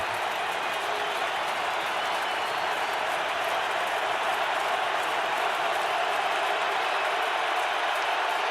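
A large stadium crowd roars steadily at an American football game in 2009, a dense, continuous wash of cheering and applause that holds at one loud level throughout with no single voice standing out.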